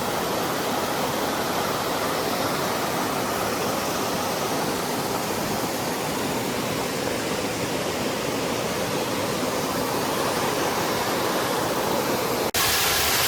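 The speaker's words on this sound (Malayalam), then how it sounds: "ഇവിടെയാണ് ഏറ്റവും കൂടുതൽ വെള്ളം വന്ന് വീഴുന്നുണ്ട്" Mankayam waterfall pouring down in tiers, a loud, constant, broadband roar of falling water filling the whole stretch with no voices, ending in a faint click.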